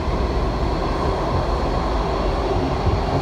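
Older metro trains arrive in the OpenBVE train simulator game, giving a steady, loud rolling rumble with wheel noise and no pauses.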